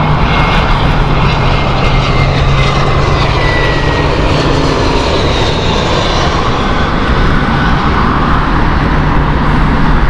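An airliner arrives at London Heathrow Airport, its engines producing a loud, steady, continuous roar that fills the whole stretch without any voices.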